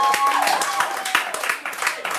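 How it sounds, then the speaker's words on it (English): Scattered clapping from a small audience at an open mic comedy night, a brief, uneven patter of hands over a couple of seconds, with some voices and room chatter mixed in. "round of applause for him"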